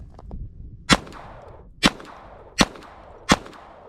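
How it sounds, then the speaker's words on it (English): Four sharp, evenly spaced pops from a .22 caliber conversion pistol on a Glock frame, each shot crisp and short with a quick decaying tail, fired outdoors at a target with no talking. "let's go ahead and put some rounds on target"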